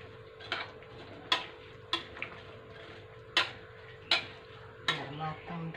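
Acar pickled vegetables with cucumber and carrot being stirred in a pan, a utensil clinking against the metal about six times at an uneven, unhurried pace over a faint background hum, no talking.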